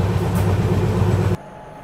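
Train rumble while pulling into Sakshigopal station on a Kolkata to Puri run, a steady loud low roar with faint clatter that cuts off abruptly near the end, leaving a quiet hum.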